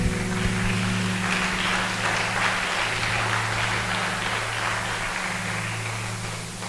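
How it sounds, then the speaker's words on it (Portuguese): Congregation clapping during a church service, a steady dense patter of many hands sustained throughout and fading slightly at the end, with a low organ or keyboard drone underneath. "Se você puder, dê um aplauso ao nome de Jesus"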